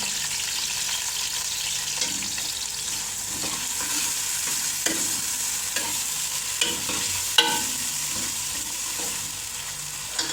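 Two finely chopped onions fry in a pan with a steady, moderate sizzle, occasional stirring taps and scrapes punctuating the hiss, no one talking.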